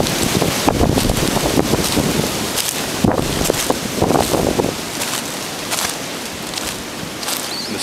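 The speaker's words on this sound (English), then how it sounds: "Listen to that wind." Wind gusting through woodland, a loud, rough rushing that swells and fades in uneven waves, with buffeting against the microphone and no voices.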